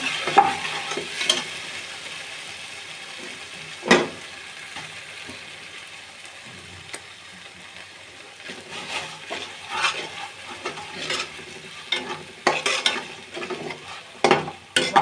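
Spices frying in a pan for hilsa pulao, a soft continuous sizzle broken by scraping stirs and clinks of a utensil against the pan, with stirring growing busier toward the end.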